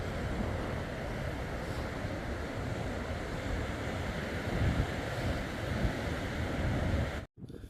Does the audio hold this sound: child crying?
no